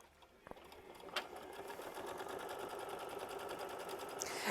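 A sewing machine stitches down a quilt block appliqué, running steadily and close by in a fast even rhythm, with a brief thump near the start and a small click toward the end.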